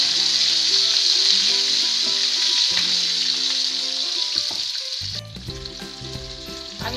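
Green chillies and a small tomato sizzle loudly in hot oil for a dal tempering, a steady close frying hiss that drops and shifts partway through as the ingredients settle, with no talk.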